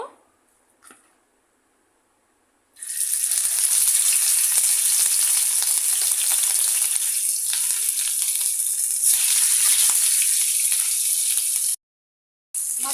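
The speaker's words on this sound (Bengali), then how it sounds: "তেল গরম হয়ে গেছে মাছগুলো দিয়ে দিব" Rui fish frying in hot oil in a frying pan gives a loud, steady broadband sizzle that starts suddenly after a quiet moment and keeps going without a break, then cuts out briefly near the end.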